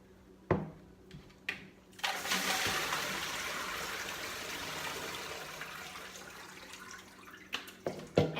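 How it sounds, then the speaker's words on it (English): Ice water being poured off a batch of pickles soaked for crunchiness, a steady splashing drain lasting several seconds, framed by a few sharp knocks and clinks of ice and container at the start and end. "So let me drain the water off."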